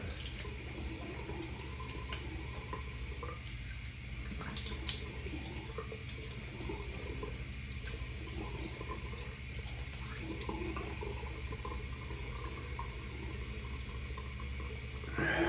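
Hot water pours from a bathroom tap in a steady, quiet hiss that runs unbroken for the whole stretch, with a few faint clinks and splashes mixed in.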